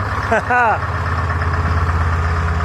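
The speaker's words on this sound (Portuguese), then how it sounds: "Full power! Detroit Diesel in the van" A Detroit Diesel 4-53N engine idles with a steady low rumble throughout while someone talks briefly over it near the start.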